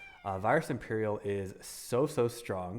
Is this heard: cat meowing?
yes